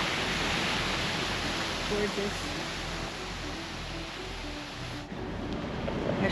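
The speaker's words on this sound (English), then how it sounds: "Right here by the beautiful waterfalls." A waterfall in downtown San Antonio roars as a broad, steady rush of water, with a person speaking briefly over it.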